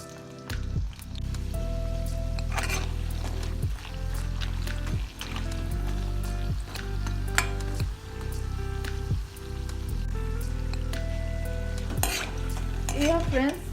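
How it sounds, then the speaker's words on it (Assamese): Green chillies sizzle steadily in hot oil in a kitchen, with a continuous frying hiss broken by a few stirring and scraping knocks of a spoon against the pan, and no talking. "দুটা কেঁচা জলকীয়াও ভাজি দিম"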